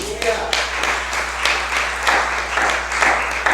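A church congregation applauds steadily, many hands clapping together in a dense, sustained wash of sound, with voices mixed in.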